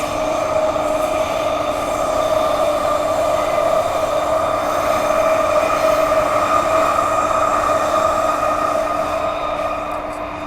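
A Transperth A-series electric train runs through a tunnel, giving a loud, steady roar with sustained tonal motor whine and rumbling wheels that continues unbroken throughout.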